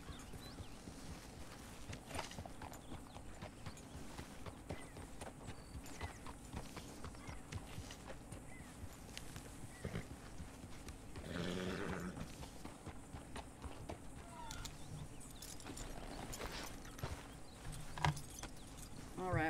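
Horse hooves clip-clopping in Red Dead Redemption 2, a steady rhythmic trot of clear, repeated hoof strikes with faint tack jingling, fairly quiet and continuous throughout.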